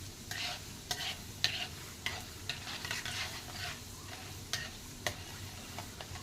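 Sabudana upma frying in a pan while being stirred, giving a steady soft sizzle broken by repeated scraping strokes of a spoon at an uneven rhythm, close and moderately quiet.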